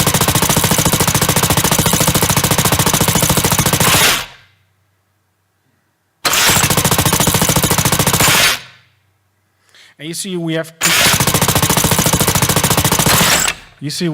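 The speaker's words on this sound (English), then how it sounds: "And the bottom part is all the gun shots." Long bursts of rapid, continuous machine-gun fire from a video game, in three loud sustained volleys separated by brief gaps, with a short voice between bursts.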